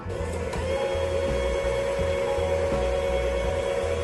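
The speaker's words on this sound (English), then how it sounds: "I wonder if I can use my electric hand mixer" Electric hand mixer frothing eggs and sugar together for a homemade buttered beer, running as a steady close motor whir with a sharp tonal hum throughout, no talking.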